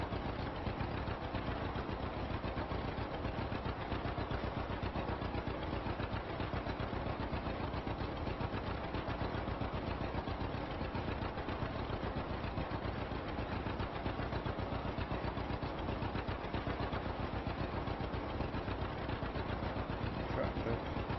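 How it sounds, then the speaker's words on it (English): Tractor engine running steadily while pulling a grass drill across a field at about 7 mph, a continuous mid-to-low drone with no pauses throughout. "Tractor plodding along at 7 miles an hour, so covering the ground pretty well."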